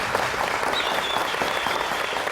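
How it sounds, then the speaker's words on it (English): An audience applauds a team at the end of a leadership competition task, steady dense clapping held for a couple of seconds at moderate level with no talking over it. "Give them a round of applause."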